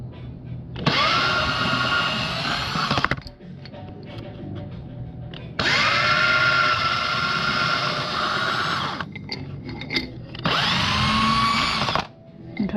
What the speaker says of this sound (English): Clean that off with a little sandpaper.